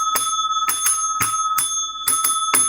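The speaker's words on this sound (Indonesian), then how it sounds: "Nah, lonceng guys." A bright metallic bell rings in short separate strikes, about a dozen in quick irregular groups, loud and close with no talking.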